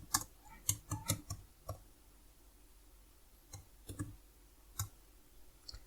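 A computer keyboard is tapped in short bursts of sharp clicks, a quick cluster of keystrokes, a pause, then a few more scattered taps, close and fairly quiet.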